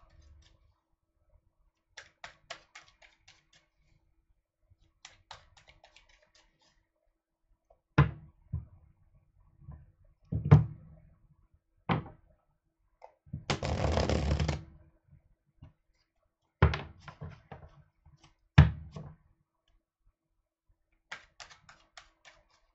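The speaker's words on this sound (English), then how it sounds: "Let me shuffle for Taurus." Intermittent papery riffling and soft slaps of tarot cards being shuffled, in short bursts separated by quiet pauses, close by with no talking.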